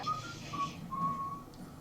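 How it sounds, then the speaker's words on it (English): Someone whistles a few short, clear notes in a simple rising-and-falling pattern, fairly soft and alone. "Instantly comes in whistling."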